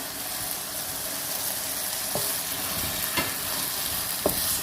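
Spice masala for a vegetable korma crackles and sizzles steadily in a hot pan, a dense continuous frying hiss with a few sharper pops and stirring clicks, close and alone without talk.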